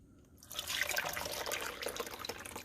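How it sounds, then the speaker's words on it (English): Water splashes and trickles steadily out of a clothes steamer's drain after a brief quiet start, a continuous close-up pouring and draining sound with no voices. "it's coming out that drain"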